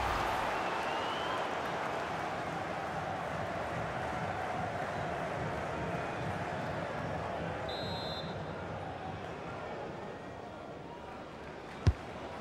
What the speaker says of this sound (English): Well, Derek, listen to that noise. The crowd can sense something.